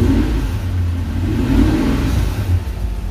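Nissan VK56DE V8 fitted in a 1969 Nissan Gloria runs steadily, a loud, close, continuous low engine drone with slight revving swells and no talk over it.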